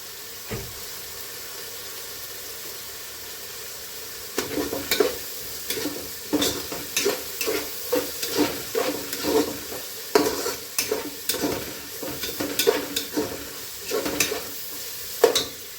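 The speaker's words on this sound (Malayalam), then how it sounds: "നന്നായിട്ട് വഴണ്ട് വരട്ടെ." Masala for a fish head curry sautéing in a pan, a steady sizzle broken by a regular series of scraping stirs that grows busier over the second half, with no voices.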